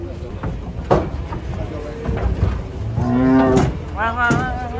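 Cattle at a livestock market moo loudly in two long, drawn-out calls near the end, over a busy crowd with people talking nearby.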